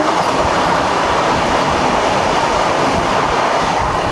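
Vande Bharat Express, train 26102 from Ajni to Pune, passing at an Indian station: a loud, continuous rushing rumble of wheels and carriages with no voices.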